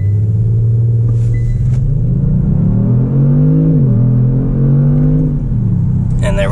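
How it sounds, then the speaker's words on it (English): Kia Stinger launching hard under launch control, engine rumbling loud and close as revs climb steadily, dip briefly at a shift, then rise again, heard from inside the car. "then you release your left foot and you will launch the car"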